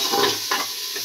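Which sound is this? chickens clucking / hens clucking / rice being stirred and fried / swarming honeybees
rice being stirred and fried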